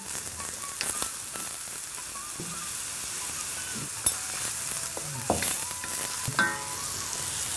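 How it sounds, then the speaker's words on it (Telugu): Onions with ginger-garlic paste fry in a pan for kheema, a steady hissing sizzle with occasional scrapes and clinks of a stirring spoon. "అల్లం వెల్లుల్లి వేసాం కదా పచ్చి వస్తుంది పోవాలి అందులో ఉల్లిపాయ కూడా కొంచెం వేగాలి కదా"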